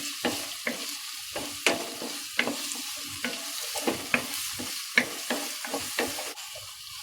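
Curry leaves and sliced onions sizzle in hot oil in a Kerala-style pan while being stirred, with a steady frying crackle broken by regular scraping strokes of the spoon.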